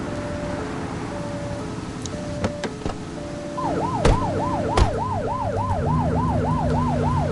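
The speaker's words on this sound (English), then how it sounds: "You're only meant to use the siren in emergencies." Police car siren in a video game, first a steady two-tone wail, then a fast rising and falling yelp that repeats continuously, with a couple of sharp clicks in between; no talking.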